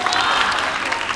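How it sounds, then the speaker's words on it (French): Audience applause at the grand final of a televised competition show, a dense wash of clapping that stays steady and loud throughout the short span. "merci de les applaudir bien fort s'il vous plaît"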